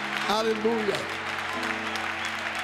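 A Pentecostal church congregation claps in the background during a 2005 Assemblies of God service, while voices shout over the applause.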